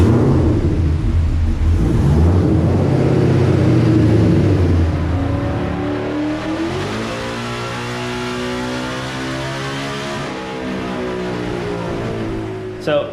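A race car fitted with a 2.5-inch Grip Tech supercharger pulley runs a full dyno pull on a chassis dyno, its engine loud and close, climbing in a long rising howl, easing back, then climbing again before cutting off.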